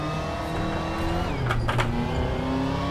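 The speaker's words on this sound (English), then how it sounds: "It's like my car got stuck on something and just bogged down." A GT3 race car engine in Assetto Corsa bogs down, its steady tone sagging and straining while a few brief rasps and chirps cut through midway; no voices.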